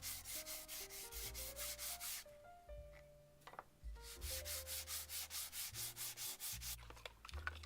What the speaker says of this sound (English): Then I gave it all a nice sanding down.